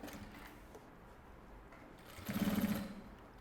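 A sewing machine stitches the fabric of a hygiene kit with a flap, its motor humming quietly before a louder, steady burst of rapid stitching for about a second near the end.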